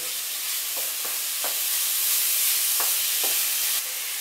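Already-cooked chicken and shrimp warm in a hot pan for cauliflower fried rice, giving a steady frying hiss broken by a few soft stirring scrapes, close and alone.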